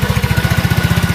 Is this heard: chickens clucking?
no